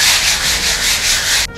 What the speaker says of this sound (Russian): Для этого мы берем 80-ю наждачку и как бы прошкурим, но без фанатизма.